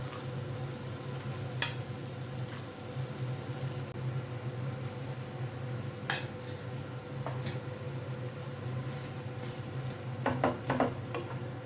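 Boiled mixed dal going into a pan of sizzling masala for paneer dal tadka, giving a steady low frying hiss with a few sharp clinks of utensils scattered throughout.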